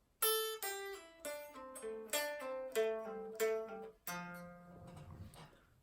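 A guitar plays a slow picked passage from the solo, with about a dozen clear, ringing notes at a steady pace and a final note left to decay.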